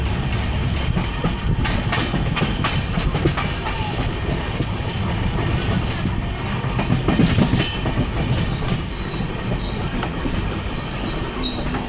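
Train pulling into Kharagpur junction railway station in India: loud, steady rumble of rolling railcars with rhythmic wheel clatter and occasional squealing wheels, close by and continuous.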